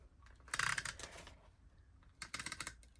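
Adhesive tape pressed onto a planner page: two short, quiet bursts of crackling tape, one early and one near the end, with soft handling noise between and no talk.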